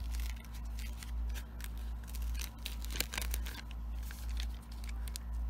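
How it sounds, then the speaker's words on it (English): Felt patch backing being peeled away in a series of soft tearing and crinkling strips, steady and close, with a continuous low hum underneath and no voices. "I just need to peel it off."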